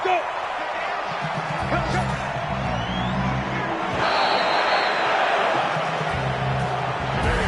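Stadium crowd noise from an American football video game plays as a broad, steady roar with swelling cheers and scattered shouts, sitting under a commentator's voice for most of its length.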